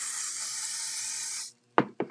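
Hairspray misted over a glitter craft piece, a steady continuous hiss for about a second and a half, then silence and two short bursts of spray.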